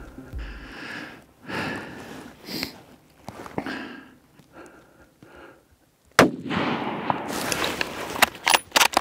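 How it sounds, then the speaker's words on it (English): A rifle shot rings out during a solo free-range aoudad ram hunt, one sharp loud crack partway through, preceded by quieter rustling and breathing and followed by movement noise. "Got him, made a perfect shot."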